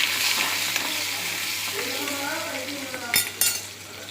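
Mustard seeds and fenugreek fry in hot oil for a Tamil New Year vegetarian dish, a continuous close sizzle with scattered pops and a couple of metallic clinks near the end, with someone speaking briefly over it.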